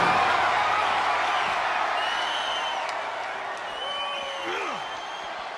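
Crowd in the WWE 2K24 wrestling video game, applauding and cheering at an Extreme Rules match as a steady, dense roar that continues throughout and eases slightly toward the end.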